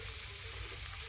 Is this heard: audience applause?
no